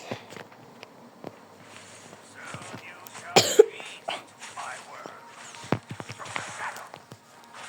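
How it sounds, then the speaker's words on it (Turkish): A single sharp cough bursts out midway through a quiet room with scattered soft shuffles and faint murmuring around it. "Bugün de az bir öksürük var"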